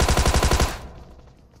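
Thompson submachine gun fire in PUBG Mobile: a rapid, loud burst of about eight evenly spaced shots lasting under a second, then a fading echo tail.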